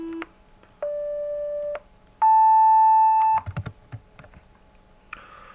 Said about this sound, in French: lorsque l'on analyse le son que produit un piano, un clavier, on obtient ce genre d'onde sinusoïdale